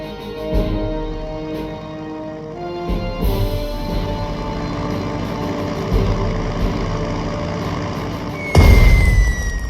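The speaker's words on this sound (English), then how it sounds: "Select the bomber and attack the enemy unit occupying the seaport." Bomber in the strategy game Strategic Mind Blitzkrieg droning low and loud as it attacks an enemy unit at a seaport, engine hum rising before a sharp, heavy explosion bursts near the end.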